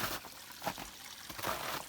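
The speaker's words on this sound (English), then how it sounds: "So yeah, water, there it is." A stream on a New Hampshire hiking trail runs full after rain, a faint, steady trickle and splash of flowing water with no voices.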